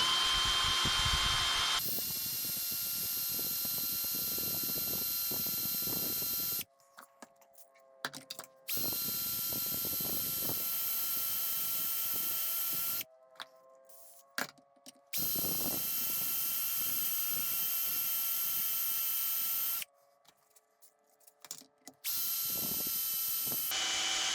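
A Parkside PBSA 12 D2 cordless drill from Lidl whirs loudly in long sustained bursts, drilling through with a worn bit, broken by several abrupt silent gaps, with faint clicks between runs.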